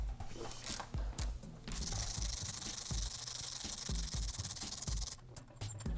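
An 8mm Allen key working a frame-mount bolt loose on a 2015–2018 Yamaha YZF-R3 motorcycle, with close, rhythmic ratcheting and grinding scrapes and brief metallic clicks.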